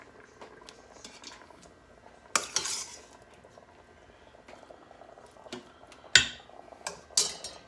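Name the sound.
meat being added back into the pot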